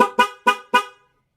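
Four short, loud car horn blasts from a dual horn setup in a quick, even rhythm, each a rich two-tone honk, then silence.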